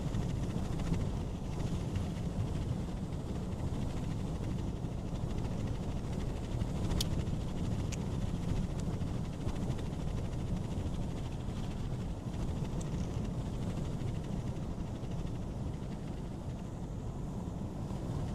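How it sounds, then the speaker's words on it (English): Gusty winds buffet the microphone during a snow squall at 28 degrees, a steady loud roar with low rumbling and no talking. "Got some gusty winds."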